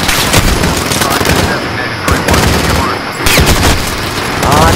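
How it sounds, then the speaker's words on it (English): Dense, loud bursts of automatic gunfire and rapid shots fill a battle in the 2019 Modern Warfare video game, nearly continuous with brief lulls, and a voice faintly under the din. "There's more gunfights."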